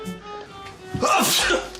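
A single sharp sneeze bursts out after a quiet, faintly humming moment, close and loud, with a brief breathy tail.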